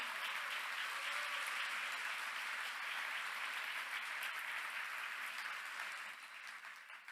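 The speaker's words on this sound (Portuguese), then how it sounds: "Dê um forte aplauso ao Senhor." A church congregation claps steadily in an even wash of applause that stays fairly soft and distant, then thins slightly toward the end.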